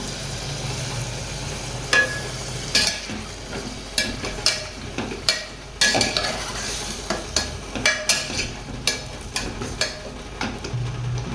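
Masala for mutton kuzhambu is stirred in a pan, with a spoon scraping and knocking against the metal in a regular rhythm over a continuous background sizzle.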